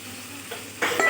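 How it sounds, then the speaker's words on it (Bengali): Fried pointed gourd stirred in a pan for a vegetarian gravy, a soft scraping stir followed by a sudden louder sizzle as water hits the hot pan near the end. "দিয়ে দেব ভেজে রাখা পটল, দিয়ে অল্প নেড়ে চেড়ে এখানে জল অ্যাড করে দেব।"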